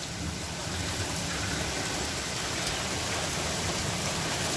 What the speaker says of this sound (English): Listen to that downpour, guys.